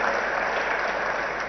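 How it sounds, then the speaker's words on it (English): An audience at an entertainment festival inauguration claps in a continuous, even wash of applause, moderately loud and unbroken, with no talking over it. "I think he deserves a big, big round of applause,"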